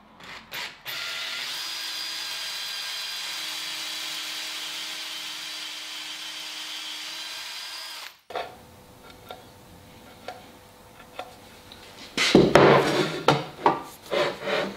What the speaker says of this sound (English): All I need to do is extend these dowel holes into the front and back panels with a drill